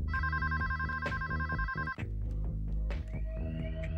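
A telephone rings indoors in a Marathi TV serial scene, giving a loud, close electronic ringtone with repeated bright tones and a few knocks or clicks between them. No one speaks.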